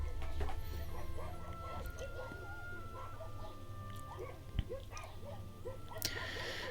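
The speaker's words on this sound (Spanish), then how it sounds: "vemos que están acosando al perro inseguro, al perrito marrón" Several dogs harass a nervous little brown dog, producing scattered whimpers, yelps and short barks over a steady background rumble, with faint chirping and one sharp thud midway.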